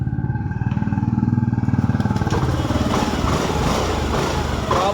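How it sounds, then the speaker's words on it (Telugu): A Honda Dio BS6 scooter engine cranks and catches, then settles into a steady, loud, close running drone with a buzzy exhaust pulse after a starting problem was fixed. "బండి స్టార్ట్ కూడా అవుతుంది ఇప్పుడు పెడితే"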